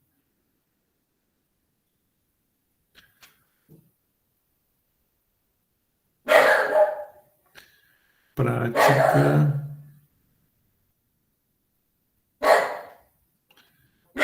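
A small pet dog barks in a few short, sharp bursts close by, with quiet gaps between them and a brief word of speech among the barks.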